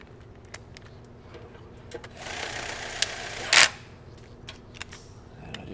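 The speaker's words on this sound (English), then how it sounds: "Just a little DeWalt drill. Got it on a real low clutch setting." A DeWalt cordless drill on a low clutch setting spins out tapered transmission pan bolts on a 2009 Ford Ranger, with a whirring run of about a second and a half and a sharp louder burst near the end, heard close and alone.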